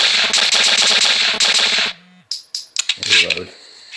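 Rapid automatic gunfire from a free gun-shooting phone app, loud and continuous for about two seconds, then a few sharp reload clicks and metallic sound effects.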